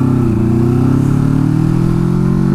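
A Kawasaki Versys 650 motorcycle engine drones loud and close as the rider accelerates to overtake, a steady mid-pitched hum with its pitch rising slightly over a few seconds, no voices.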